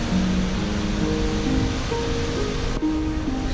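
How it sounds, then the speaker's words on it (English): Upper Falls of the Yellowstone River in the Grand Canyon of Yellowstone, Wyoming, heard from the brink above the drop: a steady, dense roar of falling water that fills the whole stretch without pause. "this is the brink of the upper falls. Whew, that's a lot of water down there"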